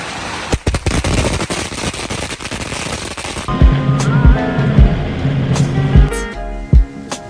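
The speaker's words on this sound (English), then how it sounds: "And of course, can't forget the fireworks that I absolutely hate." Fireworks burst during Tet celebrations in Vietnam, first as a dense rattling string of firecracker pops, then as scattered loud booms and crackles over a humming background, fairly close.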